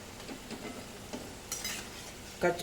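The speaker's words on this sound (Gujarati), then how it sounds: "બંને બાજુથી બ્રાઉન કલર થાય ત્યાં સુધી તળવાની." Kachori frying in hot oil while being turned until brown on both sides, a soft continuous sizzle at low volume with occasional scrapes and light taps of a utensil against the pan.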